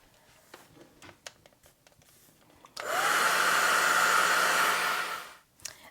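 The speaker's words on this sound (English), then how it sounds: "So I'm going to go ahead and dry this" Hair dryer blowing on damp cheesecloth for fabric paper, switched on with a sudden loud whoosh that holds steady for about three seconds before cutting off, preceded by quiet handling clicks and rustles, close and alone.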